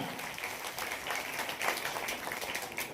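Schoolchildren clap for donors at an Independence Day function at a government senior secondary school in Garhda, a steady, fairly faint patter of many hands over the full stretch.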